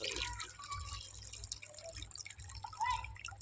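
Faint running water trickles and drips into a container, with small bubbling sounds under a soft background hum.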